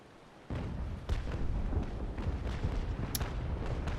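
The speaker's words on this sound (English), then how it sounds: "cannons, these, I think they're smaller cannons, so they don't really take a long time to reload" Small ship cannons fire repeatedly in the naval battle game Naval Action: Legends, a dense run of booming shots that starts abruptly and continues near and loud, with no talking.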